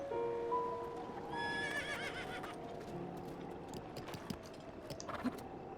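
Horse in a Zelda game, Southeast Hyrule Field, giving a shrill whinny with several neighs, then clip-clopping hooves patter at a moderate distance; no talking.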